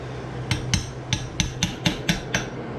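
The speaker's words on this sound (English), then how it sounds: "I'm using the side of the hammer" A hammer strikes a Jaguar MKII steering column about eight times, sharp metallic knocks at an uneven quick rhythm, close up over a low background hum.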